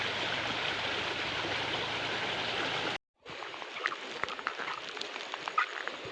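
Steady rushing of a flowing spring-fed stream in Konkan, broad and continuous, briefly cut off, then resuming slightly thinner with small splashes and trickles.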